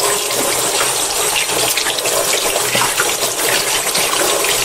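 A makeup foundation brush rinsed head-down under a running tap, steady loud gushing water splashing in a sink, close and continuous with no talking.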